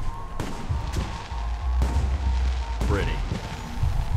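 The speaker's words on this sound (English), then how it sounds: "The noise from those fireworks should cover the sound of gunfire." In the video game Alpha Protocol, fireworks crack and boom in sharp bursts over a constant loud rumble of noise, with a voice speaking briefly during the barrage.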